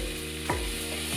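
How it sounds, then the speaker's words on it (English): Pancetta sizzles steadily in a hot pan as its fat renders, a continuous close crackling hiss with a brief stir or scrape partway through. "As the heat turns up, the fat will start to melt out of the pancetta and we can fry the next ingredients."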